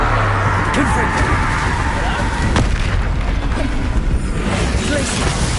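Confringo fire spell exploding in the video game Hogwarts Legacy, a dense rumbling blast with booming low end that fills the whole moment, mixed with game noise and a voice talking.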